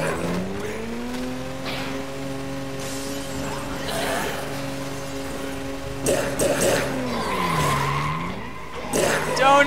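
A sports car spinning donuts in the video game Dead Rising 2, with a sustained engine drone and tires squealing and skidding through repeated loops, and a voice talking over it.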